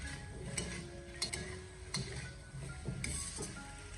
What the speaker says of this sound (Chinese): 再把切好的姜片还有葱段添加进来， 然后再继续的开小火，不停的翻炒一下